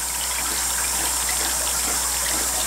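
Steady, loud water flow from a Marina hang-on breeder box fed by an air stone, a continuous hissing rush of bubbling water with no break or change.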